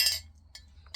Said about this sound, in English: That's the clink of my glass straw.